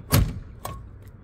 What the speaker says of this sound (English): Locking the door.